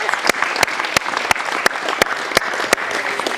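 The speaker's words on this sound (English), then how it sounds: "So please give them a round of applause." People at a basketball clinic give a round of applause, a dense, steady wash of clapping with regular louder claps standing out, sustained for several seconds without speech.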